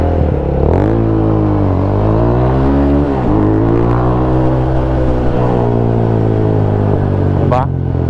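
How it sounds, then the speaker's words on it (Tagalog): A Rusi motorcycle engine revs close up in a shop, its loud, rough exhaust note climbing and falling through several throttle blips over a steady idle. "Kita nyo kung paano sumipat tong motor."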